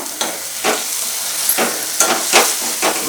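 Gongura leaves and a little tamarind frying in a pan make a loud, continuous sizzle with repeated stirring strokes every half second or so, close up and without talk.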